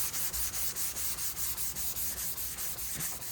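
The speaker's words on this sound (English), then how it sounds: "we got our sandpaper all folded up here on our sanding block and we'll start sanding." Sandpaper folded around a sanding block rubbing over high-build autobody primer, a quick rhythmic back-and-forth scratching with about three strokes per second, close and steady with no talking.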